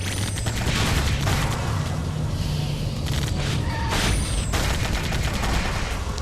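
Vehicle-mounted guns fire in rapid, sustained bursts in the 2006 Sonic the Hedgehog game, with dense repeated shots, booms and high whistling effects all the way through.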